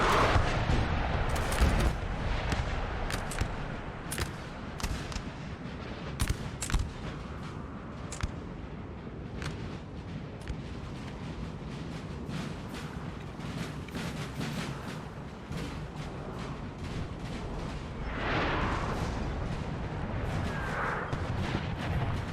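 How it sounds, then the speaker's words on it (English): Artillery fire in Napoleon: Total War, a battle in which repeated booms and cannon shots thud at irregular intervals over a dense, continuous rumble of distant gunfire. "there is artillery starting to smack around in this area"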